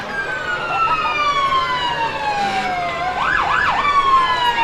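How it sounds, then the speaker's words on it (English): New Haven Fire Department Engine 7 sounds its siren during a street parade, a loud, near wailing siren that slides downward and then switches to a rapid rising-and-falling yelp, over faint crowd and street noise. "Following our color guard, New Haven Fire Department Engine 7, Fred DeWitt at the wheel."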